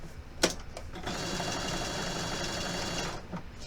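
A sewing machine stitches stretch fabric for a cape, running in a steady continuous whir for about two seconds after a brief click and a short start, close and clear, then stopping.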